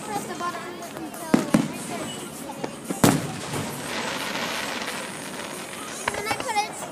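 Fireworks going off for Independence Day, with sharp nearby pops and crackles followed by a sustained fizzing and crackling, while people talk throughout.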